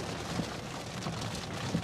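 Rain falls on a car while someone sits inside, a soft, steady hiss of drops on the body with a few slightly louder taps, faint and even throughout.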